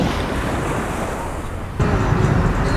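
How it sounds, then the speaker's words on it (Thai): Morning sea waves washing onto a beach in Da Nang, Vietnam, a steady broadband rush of surf with wind noise, growing louder near the end. "อย่าให้ดูว่าทะเลตอนเช้าเป็นยังไง"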